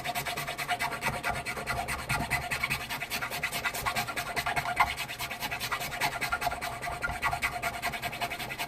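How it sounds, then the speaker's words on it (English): Steady rhythmic rasping of a file working the inside of a bushing hole on a Hohner ES-335 style guitar build, continuous close-up scraping strokes with no talking. "So just keep filing away."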